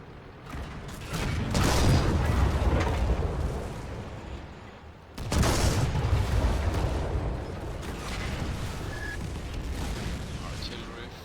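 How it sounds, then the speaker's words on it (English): Two heavy artillery shell impacts in World of Tanks, each a sudden loud boom followed by a long rumbling decay, the second at about five seconds, with faint speech under the blasts. "Artillery, very nice hit"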